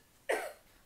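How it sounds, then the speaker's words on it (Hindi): A sick girl gives a single short, close cough. "फिर से खांस रही है।"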